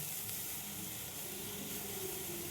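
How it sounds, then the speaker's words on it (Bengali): Packet milk poured into a hot kadai over fried dry fruits hisses in a soft, continuous sizzle, faint and steady, without talking. "ওই কড়াইয়ের মধ্যে আমি দুধটা দিয়ে দিলাম।"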